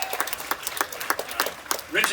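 Small audience at a comedy show clapping in scattered, uneven claps, a handful of distinct hand claps spread over two seconds with a voice starting at the end.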